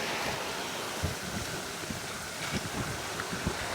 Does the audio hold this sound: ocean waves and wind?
yes